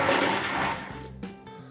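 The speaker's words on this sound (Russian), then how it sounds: "Беру блендер и короткими включениями необходимо создать первую эмульсию." Immersion blender whirring loudly in short bursts as it emulsifies homemade keto mayonnaise with vegetable oil, the motor cutting off near the end.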